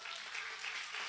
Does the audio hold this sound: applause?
yes